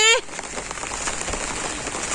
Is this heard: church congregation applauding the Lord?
no